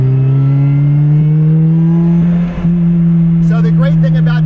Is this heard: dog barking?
no